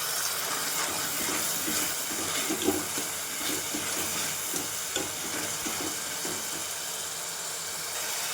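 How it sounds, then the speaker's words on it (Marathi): Red chili and spice paste fry in oil for rajma masala, producing a loud, unbroken hiss of sizzling with faint stirring movements throughout and no voices. "लाल मिरची छान तेलामध्ये भाजून घ्यायचं"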